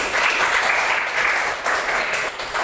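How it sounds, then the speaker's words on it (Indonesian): Congregation applauding at the close of a church gathering, a loud, continuous wash of many hands clapping together throughout, with no voices rising above it. "Beri tepuk tangan dong untuk kita semuanya"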